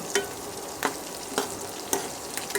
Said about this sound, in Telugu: ఇప్పుడు చిల్లీ వేసిన.